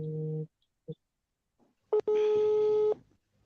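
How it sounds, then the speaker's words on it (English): A phone rings during a live interview: two short tonal bursts, then a pause and a longer, steady electronic ringtone lasting about a second, fairly loud and clear against silence. "I think, Linda, your phone is ringing."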